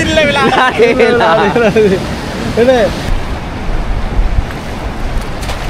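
Sea waves wash and break close by along a rough coast. Someone talks over the surf at first, then the roar of the water continues alone.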